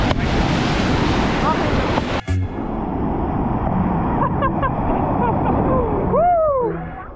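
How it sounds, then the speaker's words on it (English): Heavy surf breaks on the shore at a Hawaiian beach, a steady loud roar of waves with gusty wind buffeting the microphone; a brief dropout interrupts it and faint sounds appear later. "Big waves."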